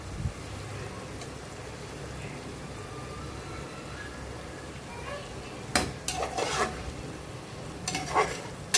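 Onions frying in a pan at home are stirred with a utensil, making a soft steady sizzle under room noise, then a few sharp scrapes and clanks against the pan near the end.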